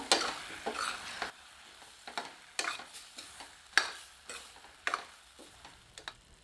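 A spoon stirs potato and pea masala in a pan, giving a series of irregular close scraping and clattering strokes over a soft sizzle, with quiet gaps between the strokes.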